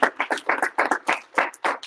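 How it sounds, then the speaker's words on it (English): A round of applause from a taekwondo class, heard as quick, evenly spaced bursts of clapping, fairly loud and close, with no talk over it. "And one more big round of applause."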